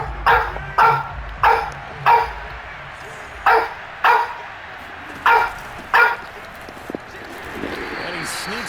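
A dog barks in short, sharp bursts about eight times at a steady pace, close by and loud, with faint background noise between barks.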